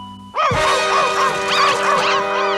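A cartoon puppy in the Tagalog-dubbed Doraemon yips and whines excitedly, a loud, continuous high-pitched run of barks over a faint musical background.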